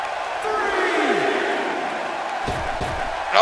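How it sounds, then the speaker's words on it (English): A wrestling event crowd roars in a steady, sustained wash of cheering and shouting, with a few sharp thuds near the end and a voice rising over it at the close. "Aether getting the crowd fired up."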